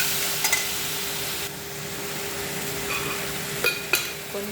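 Food sautés with salt in a pan under a steady sizzle, with a couple of spoon taps and scrapes against the pan near the end.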